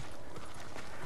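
A horse's hooves in the video game Ghost of Tsushima clip-clop quickly over a dense, loud background, a brief run of rhythmic hoof beats lasting about a second.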